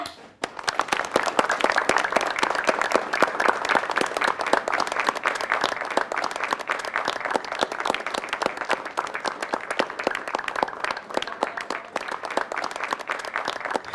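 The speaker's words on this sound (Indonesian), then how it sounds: "Mari kita sambut dengan tepuk tangan yang meriah." A crowd claps continuously and loudly, and the applause stays dense and steady for the whole span with only slight swells and no voices on top.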